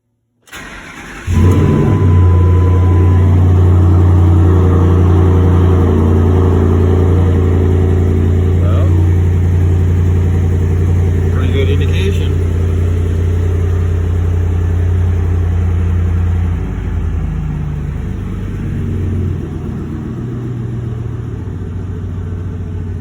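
A Ford car engine cranks briefly, catches and starts, then settles into a loud, steady idle that runs on for about twenty seconds before easing slightly in level, with a voice talking over the running engine.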